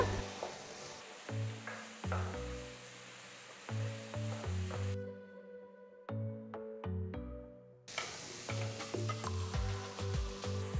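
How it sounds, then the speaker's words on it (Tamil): Onions and garlic sizzle and crackle steadily in a hot pan while a plucked melody plays over it; the sizzling drops out briefly midway. "வெங்காயத்தையும் பூண்டையும் 2 நிமிஷத்துக்கு வதக்குங்க."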